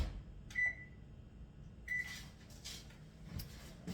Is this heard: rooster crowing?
no